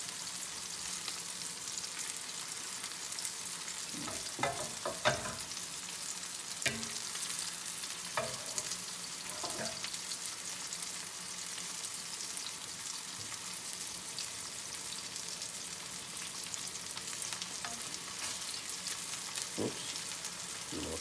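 Delicate sole fillets fry in a pan for sole almondine, giving a steady, close sizzle throughout with occasional clinks and scrapes from a utensil turning the fish.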